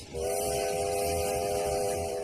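Steady train sound with a sustained whistle-like horn tone and low rumbling rail noise throughout, loud and continuous.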